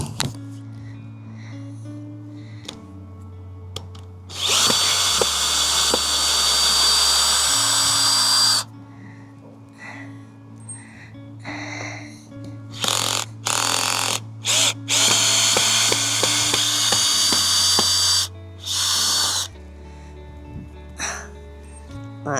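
A power drill unscrews screws from wood on an allotment, several loud whirring bursts of a few seconds each separated by pauses, close to the microphone over a low background hum.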